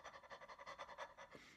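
A person imitates fast, dog-like panting during a trumpet lesson on keeping the throat open. About nine quick, evenly spaced breaths come close and clear, with no talking.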